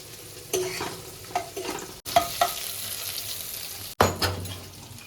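Goat meat frying in a pan with ginger and garlic, sharp scraping stirs and sizzling bursts that come close and fairly loud, with short pauses between strokes.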